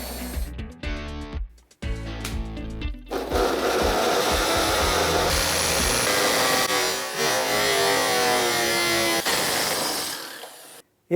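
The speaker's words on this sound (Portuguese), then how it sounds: "a hora que a broca rompeu o tijolo, na segunda parte aqui, o mandril bateu aqui na parede e acabou estragando" An electric drill bores into a hollow brick wall and breaks through, its steady loud grinding whine running for about eight seconds after a few short starts, then stopping abruptly.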